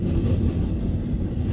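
CN freight train 5477, the northbound Woodtick, rolling through Ladysmith: a loud, continuous low rumble of rail cars passing close by, with no voices.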